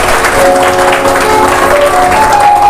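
Clapping from a gathering at a Kabir bhajan satsang rings out as a loud, continuous patter, with a sustained musical tone droning faintly underneath.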